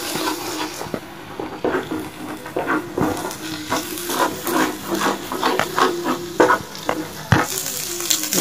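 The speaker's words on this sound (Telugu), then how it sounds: "ఇవి బాగా కలిపేలాగా కలుపుకోవాలి." Egg fry with onions stirred in a frying pan: a steady sizzle runs throughout, broken by repeated scraping and tapping strokes of the utensil, close and fairly loud, with no talking.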